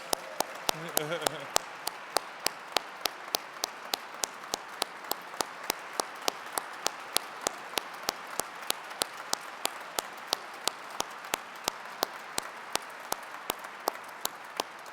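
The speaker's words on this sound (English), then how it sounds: "let's give these new honorary fellows a round of applause" Applause for new honorary fellows at an awards gala, a continuous bed of many hands with one loud, sharply regular clapper close by and a brief voice near the start.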